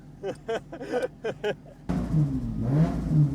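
A Ford AU Falcon with an RB20 engine swap revs hard inside the cabin, a loud rising and falling engine roar with tonal sweeps that cuts in suddenly after a few seconds of talking.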